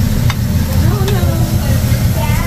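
Vegetables sizzle on a hot smoking grill at a restaurant, a loud steady hiss and crackle with stirring, and voices murmur in a busy room.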